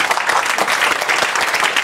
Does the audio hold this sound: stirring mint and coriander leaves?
no